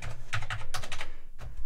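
Keys are pressed on a dirty, damaged Amiga 500 Plus keyboard, producing a quick run of close, clattery plastic clicks in uneven bursts with a short pause near the end.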